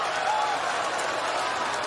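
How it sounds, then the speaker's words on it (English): A crowd at a wrestling event claps in a steady, dense wash of applause that holds at an even level throughout, with faint voices mixed underneath. "And the crowd claps."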